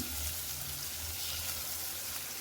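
Onions and tomatoes fry in a pan for puri uppittu, a dense, continuous sizzle with a low rumble underneath, steady and close throughout without any voices.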